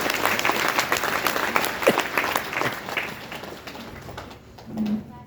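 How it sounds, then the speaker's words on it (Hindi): Steady applause from a seated audience at a gathering in Hansi, dense clapping throughout that thins toward the end, with a few brief voices rising near the close. "तो इसके लिए जोरदार तालियां पूरी संस्था।"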